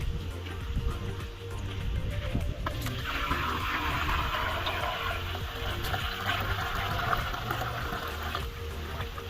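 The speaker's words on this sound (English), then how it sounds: "So I'm going to remove the water." Water being poured or scooped out of a pan of soil in village salt making, a steady close splashing and trickling that runs throughout.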